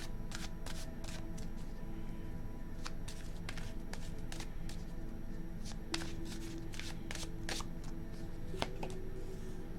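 Tarot cards are shuffled up close in repeated quick riffling bursts, crisp papery flutters with short pauses between them and no talk.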